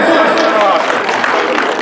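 Loud applause from a crowd at a state-level International Yoga Day celebration, steady dense clapping filling the moment.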